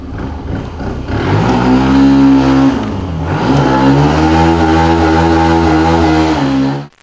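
A QJMOTOR TRX 125 motorcycle's 125 cc engine revs loudly up close, rising and falling in pitch with a throaty, buzzing tone before cutting off abruptly.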